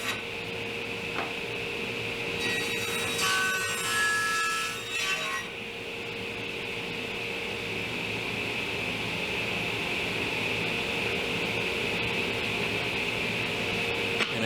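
A saw cuts through a 2x6 wood board to trim three quarters of an inch off for a farmhouse table base, a steady rasping stroke that carries on evenly and close by with a brief louder burst early on.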